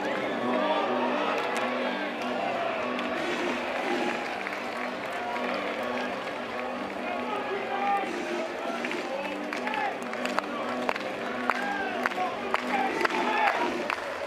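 North Carolina fans fill a college baseball stadium with a sustained roar and cheering, while a broadcaster keeps talking over the crowd and scattered claps stand out near the end.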